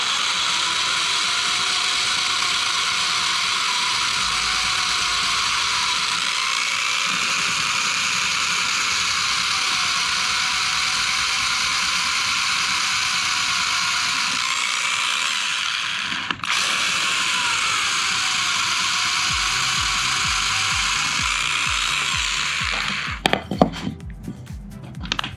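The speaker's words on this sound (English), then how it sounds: "Let's go ahead and try drilling this." A drill boring a hole into a wooden base for a micro drone race gate, a steady, continuous mechanical whir held for about twenty seconds, then several sharp knocks and handling clatter at the end.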